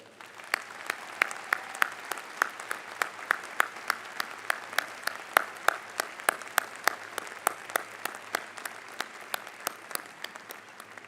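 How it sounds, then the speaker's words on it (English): Steady, evenly spaced clapping from a small commencement audience, fairly faint, continuing for several seconds. "Please join me in giving these students, soon to be graduates, a big round of applause."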